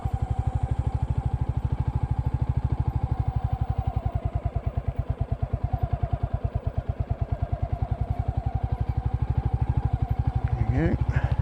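A Royal Enfield Classic motorcycle thumps along off-road with a steady, rapid single-cylinder exhaust beat, close and loud throughout, with a brief rising whine near the end.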